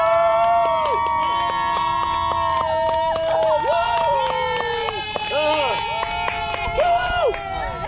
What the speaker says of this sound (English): So the longer you cheer, the longer they have to hold the kiss